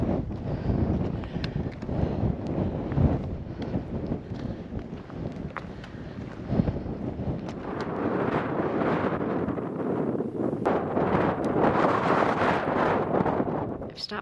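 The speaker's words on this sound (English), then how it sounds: "It's really windy out here." Strong wind sweeps across Conic Hill, a hilltop on the West Highland Way, roaring and buffeting the microphone in continuous gusts, with scattered footsteps and occasional talk mixed in.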